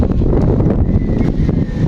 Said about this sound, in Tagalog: Pero napakalakas ng hangin